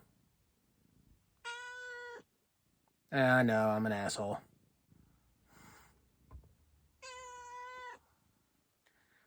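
A cat gives two clear, drawn-out meows several seconds apart, close and distinct, with a person's voice speaking in the pause between them.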